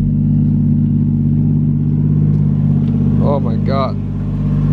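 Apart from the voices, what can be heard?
car engine on first test drive with new wheels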